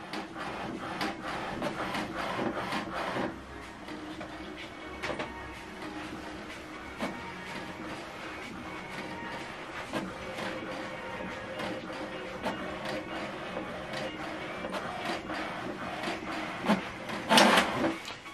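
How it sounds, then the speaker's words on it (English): An HP DeskJet Plus 4122 all-in-one printer prints an alignment page, giving repeated mechanical clicks and shuttling whirs at moderate level, with a sharper burst of paper movement near the end. "It's printing out the alignment page."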